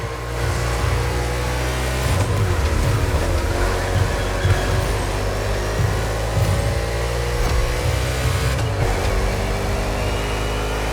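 NASCAR stock cars race through an urban street circuit in Honolulu, Hawaii, in The Crew Motorfest, with loud, continuous engine roar and revving as the pack runs close together, with no talk.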